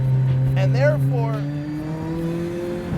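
A Lotus sports car engine drones steadily while driving on canyon roads, its pitch rising as the car accelerates, with an onboard voice speaking over it.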